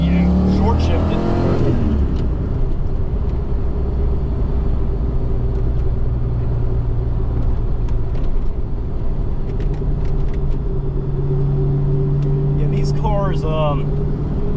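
A 5-liter Ford Fox-body Mustang engine roars loudly and continuously, its pitch dropping and climbing again as it short-shifts gears, with voices talking over it.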